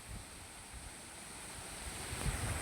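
Strong wind buffets the microphone on a mountainside, a steady, fairly faint roar with low gusty thumps that swell near the end, and no voices.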